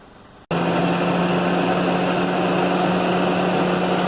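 A car engine idles steadily throughout an O2 sensor test, a loud constant hum with a strong low drone that starts abruptly after a brief quiet moment and carries on alone without talk.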